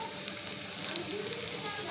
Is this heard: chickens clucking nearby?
no